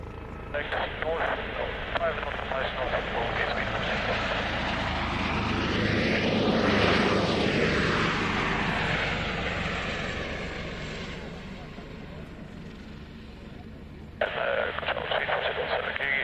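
A Hercules transport aircraft at an air show: a loud, sustained turboprop roar swelling as it rolls along the runway, peaking near the middle, with radio chatter heard at the start and end.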